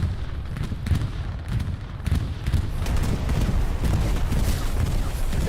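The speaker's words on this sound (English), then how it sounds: "that line gets completely disrupted by a beautiful bombing run by Stewart" Bombing-run explosions in the World War II game Hell Let Loose, heard as a dense, rumbling barrage of low booms and scattered gunfire, with no speech over it.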